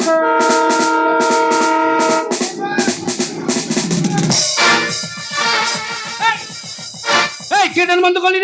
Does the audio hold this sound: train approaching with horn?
yes